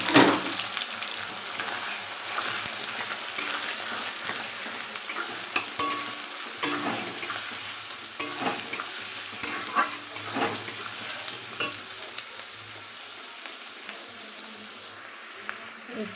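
Onions fried in oil with bay leaf, dried red chilli and whole garam masala, a steady close sizzle with repeated stirring scrapes and clinks, quieter toward the end, without speech.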